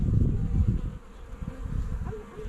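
Honey bees buzz densely and close during an open beehive inspection of Layens and long Langstroth hives, a continuous droning hum that swells and dips without any talk.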